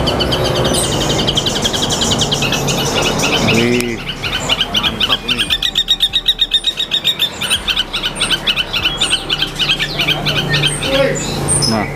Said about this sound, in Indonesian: Ini ada burung pentet.